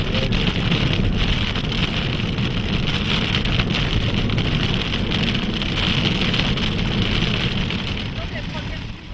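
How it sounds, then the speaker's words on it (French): A heavy thunderstorm pours onto the Niger River, a loud, dense roar of rain with gusting wind buffeting the microphone, steady and unbroken before easing slightly at the end. "La pluie tombe avec une telle violence"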